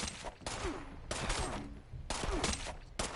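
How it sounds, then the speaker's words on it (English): An enemy shoots at the player in a video game: bursts of rapid gunfire arrive in three or four clusters about a second apart, fairly faint and with no talk over them. "Oh, he's shooting me!"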